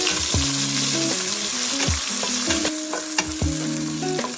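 Onion frying with garlic in a pan, a loud continuous sizzle broken by repeated knocks and scrapes of a spatula stirring against the metal.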